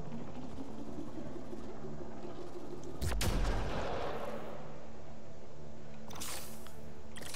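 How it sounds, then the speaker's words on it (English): A charge-up sniper rifle fires once in Mass Effect: Andromeda, a sudden heavy boom with a rumbling tail, then a second sharp burst later, over a steady game ambience. "It's a charge-up sniper rifle."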